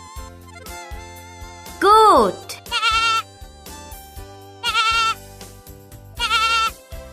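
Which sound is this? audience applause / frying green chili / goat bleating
goat bleating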